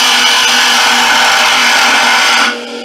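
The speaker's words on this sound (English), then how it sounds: "showing you what my lathe tool can do" A wood lathe turns wood while a lathe tool cuts it, making a loud, steady, broadband whir and scraping hiss that runs unbroken before dropping off abruptly near the end.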